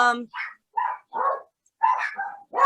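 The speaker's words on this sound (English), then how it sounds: "Sorry about my dogs." Several dogs in a home, four in all, bark and yip in short separate bursts, loud and close, with one voice briefly in the mix.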